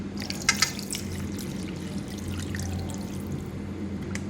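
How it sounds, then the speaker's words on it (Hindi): Water poured into a bowl of chicken pieces already seasoned with salt and vinegar, a steady close splashing trickle with a few sharper drips near the start, over a low background hum, no talking. "और 2 कप पानी डालूँगी इसमें।"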